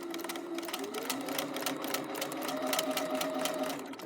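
A sewing machine runs continuously, stitching fabric for a necktie with a fast, even needle clatter, close and steady at moderate loudness with no talking.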